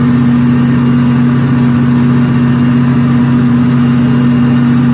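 Twin power generators run together, one feeding a bus bar while the second stands ready; a steady, loud hum with strong low tonal drone continues unbroken throughout.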